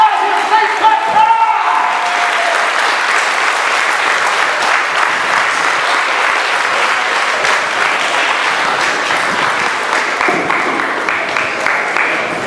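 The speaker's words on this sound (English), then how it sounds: "give a stand up and give a well-deserved round of applause to Irritated Genie of Soul Fees" Sustained loud applause from a large convention audience fills the hall, a dense wash of clapping that holds steady throughout with a few whoops and crowd noise mixed in.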